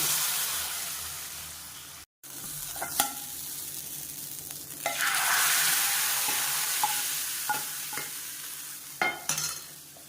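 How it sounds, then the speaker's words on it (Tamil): Mustard seeds, cumin, dried chilli and curry leaves sizzle in hot oil for a South Indian tempering, a bright crackling hiss with a few sharp pops and stirring sounds. "கடுகு உங்களுக்கு சீரகம் வரமிளகா கருவேப்பிலை போட்டு தாளிச்சு வச்சுருக்கேன்"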